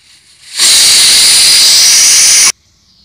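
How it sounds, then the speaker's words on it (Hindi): A pressure cooker on a gas stove, cooking rice papad, lets out one loud, sharp burst of hissing steam from its whistle, lasting about two seconds and stopping abruptly. "हमारा 1 सीटी आ गया है"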